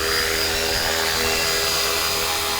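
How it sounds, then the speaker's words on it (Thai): A UH-1 Army-style 450-size RC helicopter descends under reduced throttle, its electric motor and rotor giving a loud, steady high-pitched whine and buzz up close throughout, with no talk. "ผมกับการเล่นเฮลิคอปเตอร์ UH1 450 Army นะครับ"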